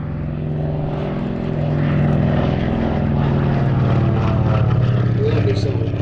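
A Lockheed 12A Electra vintage twin-engine aircraft flying at the Sywell Airshow 2024, its propeller engine drone swelling and holding steady as it passes, with a fluctuating pitch.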